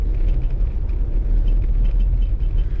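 Steady low rumble of road traffic passing along a pine-canopied road, a continuous broadband drone with no distinct individual vehicles and no talk.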